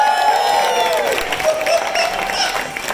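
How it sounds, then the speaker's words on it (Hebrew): Audience clapping and cheering for a performer named Shalgon at a live stage show, a steady dense wash of applause with crowd noise throughout. "וזהו, כפיים לשלגון!"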